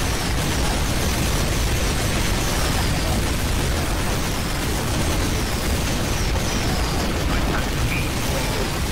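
Flying bomb explosions from a boss fight on the dr_berlin map in Team Fortress 2 merge into a dense, loud, unbroken roar of blasts and debris lasting the whole stretch, with no clear gaps between bursts.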